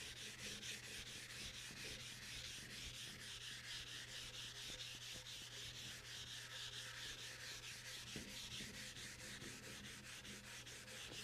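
Fine-grit sandpaper wet with mineral spirits scrubs a cast iron Delta Unisaw table saw top in continuous, even back-and-forth strokes, close and steady with no talk.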